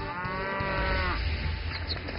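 Dairy cows low at a large modern pasture holding over 40,000 head: a long, loud, close moo drawn out over a couple of seconds, with more lowing blending in.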